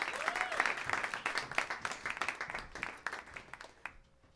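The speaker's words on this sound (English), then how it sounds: "Let's give a warm round of applause for your hosts tonight" Audience applause for the two hosts at a comedy roast, a dense spatter of clapping that peaks early, thins steadily and fades out near the end.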